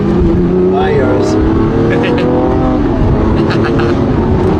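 A Lamborghini sports car's engine revs up hard, its pitch sweeping upward with a loud, close roar, while voices talk over it.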